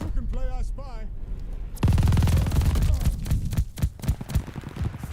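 An MG42 light machine gun fires in Call of Duty: Vanguard, a loud, rapid sustained burst that breaks into shorter bursts, after a brief stretch of a voice talking.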